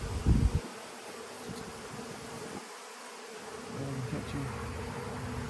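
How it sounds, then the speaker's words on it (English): Steady buzzing of many honey bees coming out of a log fills the air, a dense continuous drone close by with a brief thump at the start. "Look at all the bees coming out of that log."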